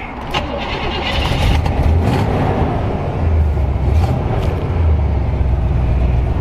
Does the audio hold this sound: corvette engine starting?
yes